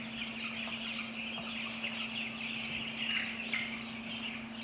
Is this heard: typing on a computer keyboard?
no